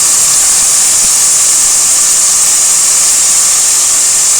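Tomatoes and green chillies sauté in a pan for mutton biryani, a loud, even, unbroken sizzling hiss that holds steady from start to finish with no voices.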